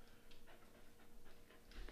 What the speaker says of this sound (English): I can hear a dog panting.